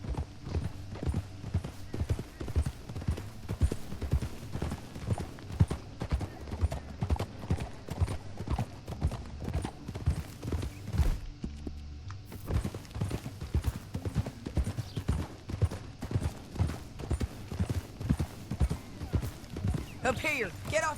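In Red Dead Redemption 2, horse hooves clip-clop in a steady, rhythmic trot over ground, close and clear, broken by a short pause midway. Occasional game voices and faint mechanical sounds mix in.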